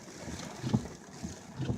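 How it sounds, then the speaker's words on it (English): Hurricane Irma winds of roughly 100 miles an hour heard from inside a car, a continuous roaring, buffeting rush with low gusty thumps against the microphone, fairly faint and without talking. "about 100-mile-an-hour winds going through right now"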